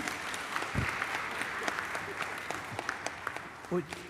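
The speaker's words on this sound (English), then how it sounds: "Let's give DDG a massive round of applause." An audience at an engineering symposium gives a round of applause, steady clapping at a modest level with sporadic louder individual claps, while a voice briefly speaks near the end.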